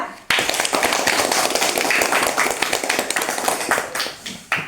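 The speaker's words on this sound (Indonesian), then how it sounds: "Berikan aplaus untuk kelompok 2" An audience in a fifth-grade classroom claps for a student group, dense continuous applause starting abruptly and filling the room for several seconds before tapering off near the end.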